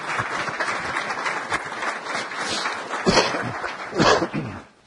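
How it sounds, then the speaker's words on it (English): Audience applause fills a city council chamber, a steady dense clapping that swells near the end before tapering off. "Have a big round of applause for them."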